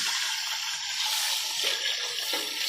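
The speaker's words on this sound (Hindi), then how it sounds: "ये पानी मैंने डाल दिया है" Water poured into a cooking pot of rice: a steady, close rushing splash that runs continuously throughout.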